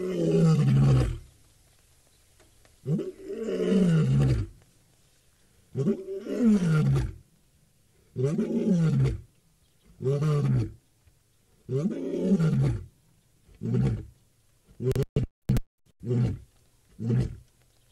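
A male lion roars on an early-morning safari, a long series of deep, powerful roars that start drawn out and loud, then shorten into rhythmic grunting pulses spaced about two seconds apart, carrying clearly across the bush.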